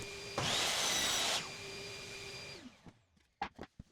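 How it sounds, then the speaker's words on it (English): A loud power sander on plywood whirs for about a second, then a lower motor hum runs on and winds down, leaving a few faint knocks and scrapes. "Get the sanding done right now and everything nice and smooth."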